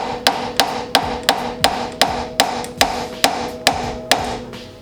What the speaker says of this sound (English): Hammer on the side of it, and a 4-pounder really helps